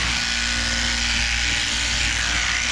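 Electric shearing handpiece crutching and pizzle-ringing a wether sheep, giving a steady, close, continuous motorised buzz throughout with no pauses and no talk.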